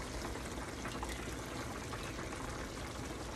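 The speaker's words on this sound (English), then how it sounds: "I'm gonna pour my tomato sauce in first" Tomato sauce pours steadily onto ground beef in a pan, producing a continuous, even, hissing liquid rush with no talk.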